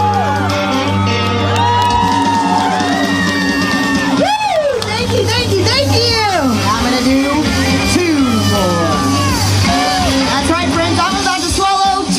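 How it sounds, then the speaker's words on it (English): A crowd at Fright Fest 2021, Six Flags New England, roars for a sword swallower with loud, sustained cheering, shouts and high whoops that rise and fall continuously throughout. "Hear thunderous applause!"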